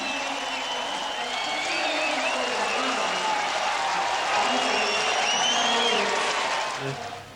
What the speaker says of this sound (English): Here's the roar of the crowd.